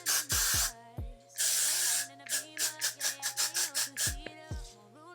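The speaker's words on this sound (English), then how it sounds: "I'm gonna take the rest of this Got To Be freeze spray" Several hissing bursts of Got To Be hair freeze spray, some long and some in quick short pumps, sound close by while a voice hums and chatters underneath.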